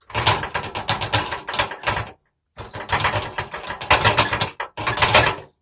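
Loose parts rattle inside a Zephyr camper van as it drives over bumps: two dense bursts of clattering, knocking and rattling, loud and close, separated by a brief silent gap.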